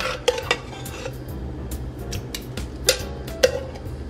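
Chunks of birria meat dropping into an oiled pot, giving a few sharp clattering knocks and soft thuds against the pot, close and fairly loud over a low steady background hum.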